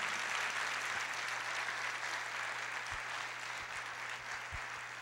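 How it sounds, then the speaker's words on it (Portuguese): A church congregation applauding, a dense continuous wash of many hands clapping at steady strength throughout, with a few low thumps underneath. "Você pode aplaudir ao Senhor Jesus, exaltar o seu poder, e com esse aplauso diga que o diabo não tem poder na sua vida."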